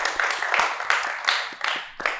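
A live show audience claps together in a dense, steady burst of hand claps that stays loud throughout, without talk.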